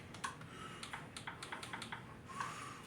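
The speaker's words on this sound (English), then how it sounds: "I'm going to have to type this one out a little bit more" Someone types on a computer keyboard close by, with quiet, irregular bursts of key clicks and short pauses between them, heard on their own.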